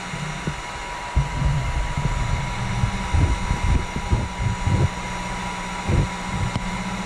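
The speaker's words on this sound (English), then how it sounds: "Now I heat it up on low range on it this time instead of high." Heat gun running on its low setting while heating metal to make dragging weights, a steady close blowing whoosh with intermittent low thumps and handling noises.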